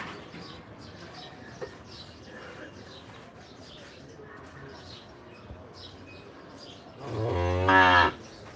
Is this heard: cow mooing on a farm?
yes